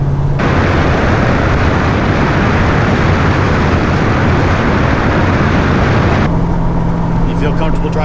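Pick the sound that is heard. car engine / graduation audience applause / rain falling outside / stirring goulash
car engine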